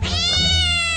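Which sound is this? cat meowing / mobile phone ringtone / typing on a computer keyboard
cat meowing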